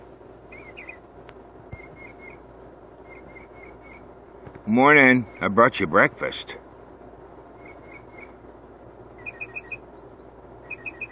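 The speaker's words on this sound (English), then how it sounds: "And we can hear the birds this morning." Small birds chirp in short repeated phrases in the morning, fairly faint, over a steady air-conditioner hum; a person whistles loudly in the middle, and someone speaks briefly.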